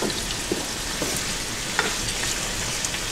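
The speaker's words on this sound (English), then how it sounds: "And I let this like saute a little bit." Onions sautéing in a pot, a loud, steady frying hiss with a few small pops and stirring scrapes, heard up close and without talk.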